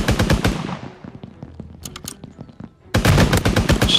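Gunfire rattles through a Toy Soldiers battle royale match, dense bursts at the start and again at the end with sparser distant shots between, loud and unbroken by talk.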